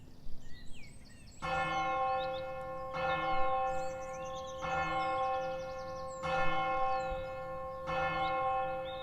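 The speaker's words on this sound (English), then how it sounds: "the bell rang from the nearby city" A large bell in a nearby city tolls five slow, resonant strikes about every one and a half seconds, each ringing on until the next. Faint birdsong comes just before the first strike.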